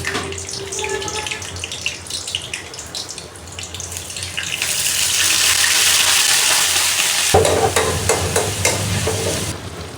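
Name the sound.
tempering (baghar) dal, sizzling spices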